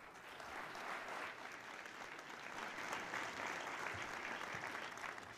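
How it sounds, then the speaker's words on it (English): Steady, dense applause from an audience welcoming an energy minister and an interviewer onto a stage at a conference event, sustained and fairly even in loudness throughout. "please join me in a round of applause"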